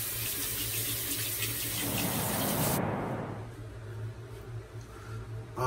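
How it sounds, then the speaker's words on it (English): Tap water runs steadily into a sink as someone rinses off after a shave, a broad hiss that swells briefly in the middle before settling to a softer trickle, with no talking. "let me rinse off"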